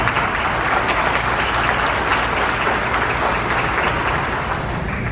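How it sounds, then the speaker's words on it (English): An audience applauds a youth orchestra after its performance at a Korean War veterans' wreath-laying ceremony. The clapping is dense and steady and stays loud and even throughout, with no voices heard over it. "Please give them a round of applause."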